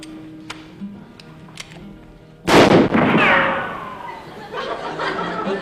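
A single sharp pistol shot cracks out loud and close, followed by a rumbling echo and then a lingering noise that sounds like an audience reacting in a television studio.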